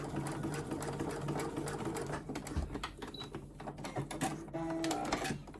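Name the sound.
sewing machine topstitching denim with longer stitch length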